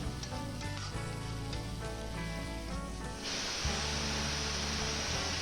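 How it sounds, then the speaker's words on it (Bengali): Ground spices, cumin and slit green chillies frying and being stirred in a pan for a bottle gourd and rohu curry. A dense hissing sizzle plays under tonal background music and swells louder midway. "দিয়ে সব একসাথে বেশ ভালো করে কষিয়ে নিতে হবে"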